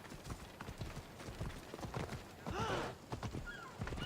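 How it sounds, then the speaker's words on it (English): Steady rhythmic clip-clop of horse hooves trotting in the video game Assassin's Creed Odyssey, with a brief horse whinny midway and game ambience underneath. "And I got a new horse as well."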